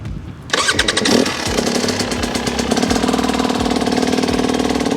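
A hard enduro motorcycle engine fires up after a brief quiet moment, then settles into a loud, steady, close idle with a rapid rattling pulse that runs throughout.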